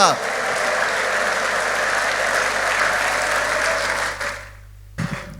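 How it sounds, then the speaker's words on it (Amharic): A church congregation breaks into long, loud applause with high ululating cries over it, holding steady before cutting off abruptly to near silence, then a brief burst of sound. "ረጅም ጭብጨባና እልልታ ለዚህ ጌታ"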